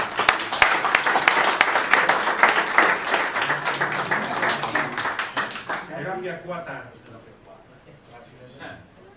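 Applause from a gathering at an Oaxaca recovery group's anniversary welcomes padrino Charlie: loud, fairly near clapping for several seconds that thins out, followed by a voice speaking.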